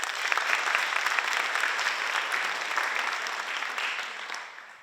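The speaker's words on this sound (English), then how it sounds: "if we could all give her a round of applause" Steady applause from an audience at a high school National Honor Society induction ceremony, sustained clapping that stays dense and fairly loud for the whole stretch before slowly easing off.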